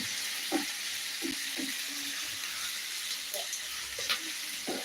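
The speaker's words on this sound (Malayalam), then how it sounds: "ഉള്ളി നന്നായിട്ടൊന്ന് ഇളക്കി കുറച്ച് കേട്ടോ മുപ്പിക്കുക" Onions frying and being stirred in a pan for layer roti, with a steady broadband sizzle and a few soft scraping stir strokes; faint voice-like sounds in the background.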